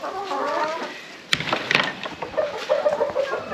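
Farm chickens being herded into a coop in the evening, with short soft clucks and bird chatter close by, plus a sharper knock partway through.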